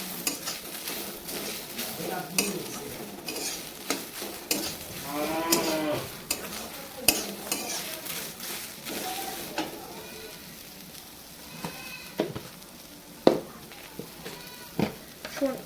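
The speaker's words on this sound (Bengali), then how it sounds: "স্টিমটা লো করে আস্তে আস্তে ভাজব" Jute leaves (pat shak) with chili fry over low heat in a pan, a soft sizzle running under repeated scraping stirs and irregular clanks of a utensil against the pan, with faint voice-like sounds now and then.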